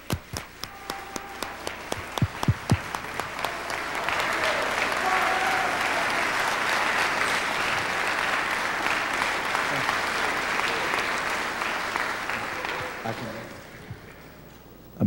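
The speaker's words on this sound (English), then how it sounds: "Give a round of applause, the Honorable Minister Louis Farrakhan" A Chicago audience applauds Minister Louis Farrakhan. It opens with a few sharp, scattered claps, then swells into loud sustained applause with crowd noise before it fades out near the end.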